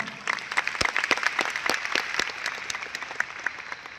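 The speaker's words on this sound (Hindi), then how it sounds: "मैं चाहूँगा एक बार जोरदार तालियां मिस्टर रिजवान खान" Audience applause at a Vestige business meeting, with individual sharp claps standing out as the clapping builds from a quiet start into a steady, moderately loud round.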